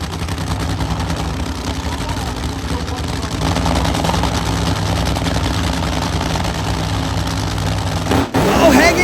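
Funny car drag racing engines rumble loudly and steadily at the starting line, forming a dense, sustained roar with a sharp cut near the end.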